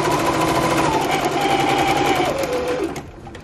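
Sewing machine stitching a dart on fabric with a backstitch, a fast steady whirring needle hum close up that drops in pitch and slows before stopping near the end.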